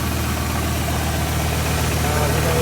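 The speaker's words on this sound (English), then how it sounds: "yes, it has a major exhaust leak" A Ford Triton 2-valve engine with a major exhaust leak idles steadily and loudly up close, giving a continuous rough rumble with a broad hissing, puffing leak noise over it.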